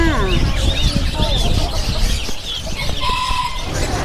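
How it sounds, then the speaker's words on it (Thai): Bantam chickens, including Salamon bantams, clucking and calling in a busy market yard, with overlapping bird chatter, a continuous noisy background, and people talking nearby. "ทางนี้เป็นไก่แจ้ซาลามอนะครับ"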